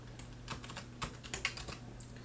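Rapid, uneven keystrokes on a computer keyboard as an ID is entered, a dense run of light clicks over a steady low electrical hum, no voices.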